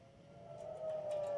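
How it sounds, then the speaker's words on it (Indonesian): Israeli military warning siren sounding during an Iranian missile attack, a single sustained wailing tone that rises slightly and grows louder, heard alone and without speech. "Sirine peringatan dibunyikan militer Israel saat Iran meluncurkan serangan rudal."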